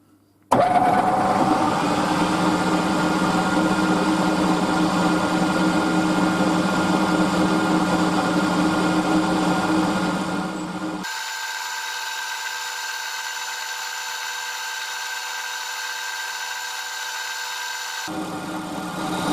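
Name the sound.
milling machine skimming a bottle opener blank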